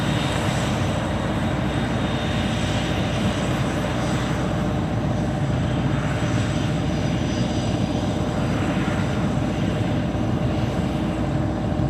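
A jet airliner takes off from Sydney Airport's runway 16 right in the evening, its engines giving a loud, steady, broadband roar that holds constant throughout with no voices.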